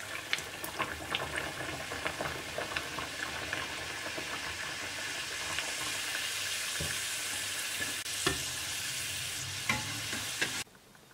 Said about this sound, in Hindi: ऐसा ही हमें सारी करंजी फ्राई करना है अच्छे से हल्के से गोल्डन होने तक।